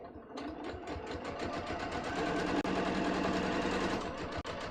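A sewing machine runs steadily, stitching corduroy pants with a fast, even mechanical chatter that holds throughout, briefly pausing once or twice.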